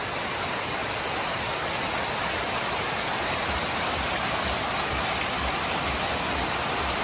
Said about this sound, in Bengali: একটু কমছে বৃষ্টি